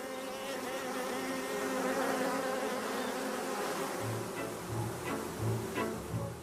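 Honey bee buzzing inside a hive as a scout performs the waggle dance, a steady dense drone of many wings with short louder pulsing bursts toward the end.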